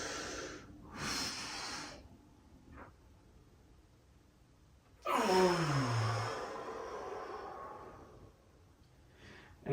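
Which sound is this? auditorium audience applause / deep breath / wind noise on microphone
deep breath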